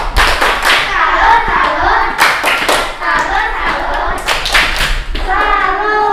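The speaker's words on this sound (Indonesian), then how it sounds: "tepuk tangan untuk kelompok 3. Ada tepuk tangan." A classroom group bursts into sustained applause for a student group, loud and close, with dense rhythmic clapping, a few thumps and children's voices mixed in.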